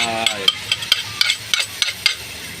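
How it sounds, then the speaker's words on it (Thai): Beef meatballs and fish strips are stir-fried in a pan for a Thai basil dish. A steady sizzle runs underneath while a utensil strikes the pan in a regular rhythm of sharp clacks, close and fairly loud. "แล้วเราก็มาใส่ลูกชิ้นเนื้อ กับปลาเส้นลงไปเลยครับ"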